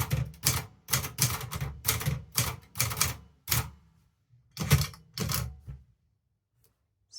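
Manual typewriter typing in red ribbon mode, a close series of sharp mechanical key strikes in quick bursts, a pause, then a few more clacks and a faint final click.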